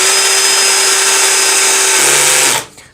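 Parkside PPBSA 20 Li A1 cordless drill with its clutch on the lowest setting driving a large screw, a loud steady high whine that drops in pitch under load, then cuts off abruptly near the end.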